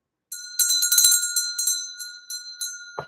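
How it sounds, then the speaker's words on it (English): A small bell is struck repeatedly in uneven quick bursts, each ring bright and metallic with a sustained tone, close and loud, with a brief knock at the end. "I'm going to ring the bell."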